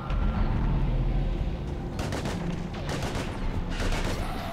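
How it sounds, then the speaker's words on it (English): Gunfire in the Mass Effect 3 video game, rapid bursts of shots crackling over a constant rumbling battle din, loud and dense with no clear speech. "We're taking heavy fire."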